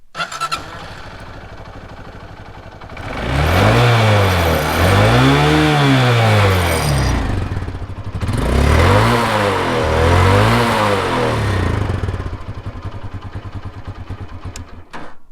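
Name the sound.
Hero Honda Karizma R motorcycle exhaust note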